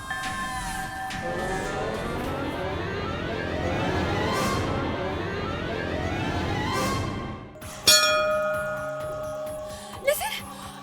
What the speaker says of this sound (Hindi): वो तीसरी बार घंट बजा।